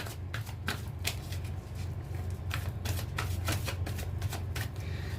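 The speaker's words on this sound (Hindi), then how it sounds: "जब तक मैं कार्ड शफल कर रही हूँ" Tarot cards being shuffled by hand, a steady run of crisp riffling bursts and soft flutters, close and fairly loud, with a low constant hum underneath and no talking.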